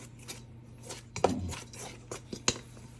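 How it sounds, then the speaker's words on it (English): A spatula scrapes and knocks against a bowl while biscuit dough with grated butter is stirred, giving irregular soft rubbing strokes broken by a few sharp taps, close and fairly quiet, with no talking. "I just mix this up with my spatula. Stir that in good."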